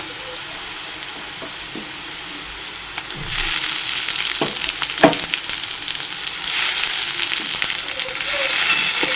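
Ginger garlic paste dropped into a pan of browned onions, sizzling and frying loudly with stirring scrapes, the hiss swelling in two steps as the paste hits the hot oil.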